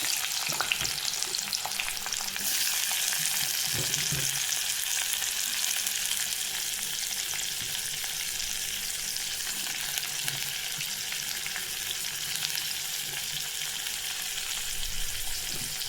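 Onion frying in hot oil in a pan for a chicken dinner gives a loud, steady, close sizzle that lasts throughout, with occasional stirring scrapes and no talking.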